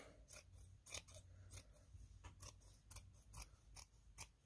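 Scissors snip around fabric for a Christmas pillow in a quiet room, a run of quick, crisp close-up cuts in an irregular rhythm with short pauses between them.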